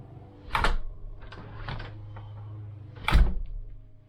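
A new door in a mobile home, fitted with new siding around it, is shut: a few soft knocks and latch clicks, then one firmer, louder thump as it closes, heard close up.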